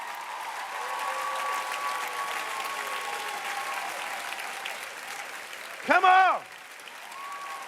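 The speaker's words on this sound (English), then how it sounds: "Clap your hands like it's about to." Soft, steady clapping fills the background for several seconds while a speaker talks over it, with a melodic voice or music rising above, then a brief loud vocal burst.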